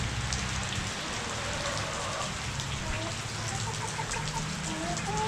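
Steady rain pattering on a surface, dense and continuous throughout, with faint bird calls scattered in the background.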